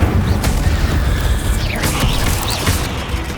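An Incendio fire spell is cast in Hogwarts Legacy, a loud, full whooshing burst with booming low rumble and crackling flares, sustained across a few seconds.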